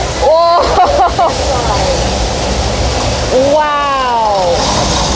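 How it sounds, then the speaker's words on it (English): Water pours down in a studio-tour flood effect on the NBC Universal backlot. It makes a steady, loud rushing roar that runs the whole time, while a voice calls out excitedly over it. "Look at the water coming, look at the water coming."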